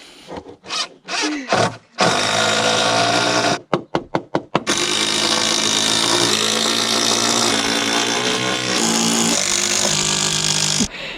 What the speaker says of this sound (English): this new machine is going to come in very useful today because we've got lots of noggins to screw